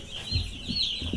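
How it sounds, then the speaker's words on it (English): Chicks in a poultry brooding room give soft, repeated peeps and clucking calls over a murmuring background, close and moderately quiet. "This is the brooding room. This is where we keep the chicks."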